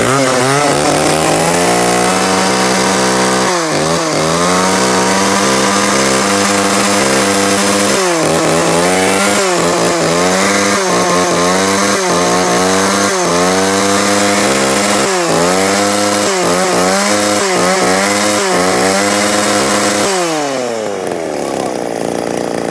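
A used Japanese H3 chainsaw is test-started and runs at a steady, loud, buzzing pitch with rhythmic surges in engine speed for about twenty seconds before cutting off, with no other sounds.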